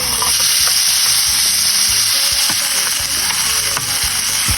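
Ginger and tomato sauté in a hot pan with a loud, continuous sizzle. Scraping and stirring clatter runs throughout, close to the microphone, with no talking.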